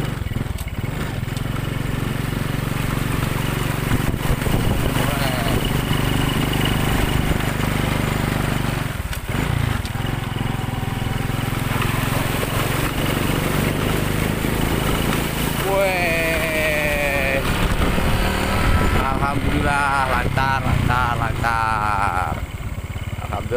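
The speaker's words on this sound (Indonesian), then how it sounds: "Pakai motor, saudaraku." A motorcycle rides through a flooded road toward a banana plantation, a continuous close engine drone with splashing texture, steady throughout, while someone talks over it at times.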